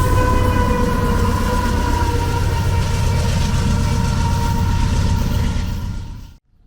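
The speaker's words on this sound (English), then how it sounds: "And here is the last engine to go past." The last locomotive of a very long train on the Canadian prairies rumbles past close by, with a deep engine drone and steady tones before the sound drops away abruptly.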